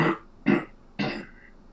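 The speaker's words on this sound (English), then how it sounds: "it sounds like you're taking umbrage with that by clearing your throat" A man clears his throat three times in quick succession, in short, gruff, close-up bursts with brief pauses between them, in a quiet room.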